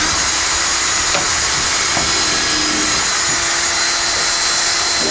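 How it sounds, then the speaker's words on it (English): Wood being drilled in a drilling jig, a continuous loud, steady power-tool whine and grinding that holds without a break throughout, close to the microphone, with no voices. "This is where you're gonna drill."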